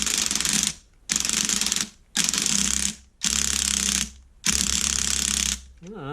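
An Erbauer 18V brushless drill runs in five loud, steady bursts with short pauses between them, a whirring mechanical drive noise with a ratcheting edge, heard up close while its chuck is being worked loose.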